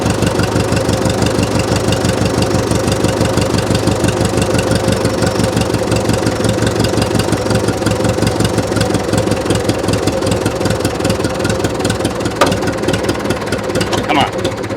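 The engine of a 1941 IH TD-14 dozer, abandoned for 25 years and running on gasoline, keeps up a loud, close, steady knocking rumble with a rapid regular beat and no clear drop in speed.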